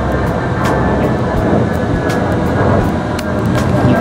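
Airplane flying overhead under a hazy sky, a steady broadband roar heard from outdoors, continuous and fairly loud throughout.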